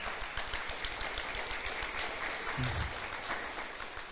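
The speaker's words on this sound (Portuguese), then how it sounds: "Pode aplaudir mais forte." Sustained applause from a church congregation during a sermon, dense and steady throughout but fairly faint and distant, with no speech over it.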